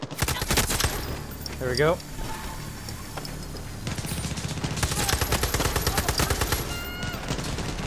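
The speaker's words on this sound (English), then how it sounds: "They're shooting like they want to blow themselves up." Enemy gunfire in Far Cry 6 crackles in dense, rapid automatic bursts, loud and close, with brief lulls between volleys and someone speaking briefly over it.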